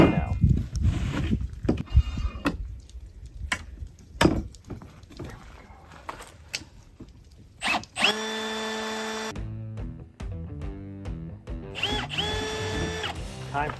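A power tool grinds outdoors in falling snow beside an off-grid self-built house: loud, bursty grinding with sharp starts and stops, then longer steady whining runs near the end, heard close with no talk.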